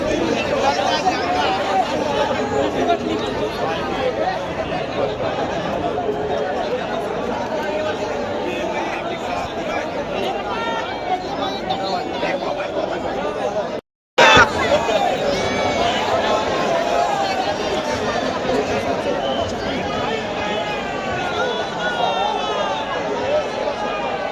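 A dense crowd of devotees at the Ekvira hilltop temple keeps up a continuous babble of many overlapping voices. The chatter is close and steady, broken only by a brief cut partway through.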